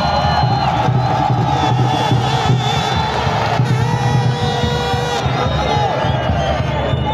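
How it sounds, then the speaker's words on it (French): A large crowd at a ceremony in Haut-Katanga launching locomotives cheers and shouts for the re-elected president, a loud continuous roar of many voices with whistling tones running through it. "Félix Antoine Tshisekedi Tshilombo, président réélu qui mérite nos applaudissements."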